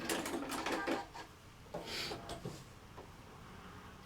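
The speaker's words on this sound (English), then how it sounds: "I'm stitching down the line, but I'm going just this side of the line each time" A domestic sewing machine stitches a quilt block seam along a marked line in short runs, a close, moderately loud mechanical whirr that pauses and restarts several times with light handling noises between bursts.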